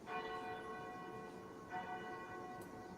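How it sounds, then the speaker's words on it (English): Church bells ring steadily with a rich, sustained metallic tone, swelling again partway through; moderately distant and without voices. "All right, who's doing the church bells?"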